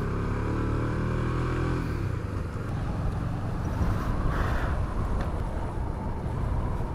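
A KTM Duke 250 loaded with luggage climbs a steep mountain road, its engine a steady, dense drone with a slowly rising tone. Wind noise runs throughout and no one speaks.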